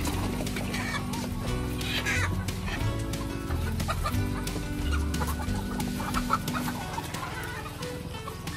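Chickens clucking steadily from a flock being moved into a new steel cage, a dense, continuous stream of overlapping clucks and calls up close, with no talk.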